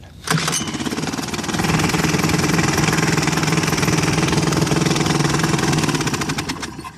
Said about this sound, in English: because this motor is warm now, I'm gonna leave the choke off, just increase it slightly and then pull it